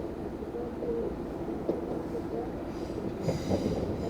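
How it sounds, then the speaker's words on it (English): A train pulls into Enfield Station on the Dublin Connolly line, a steady broadband rumble of wheels and carriages with faint squeals and clanks rising near the end, heard close and continuous with no talking. "here's the train coming here now"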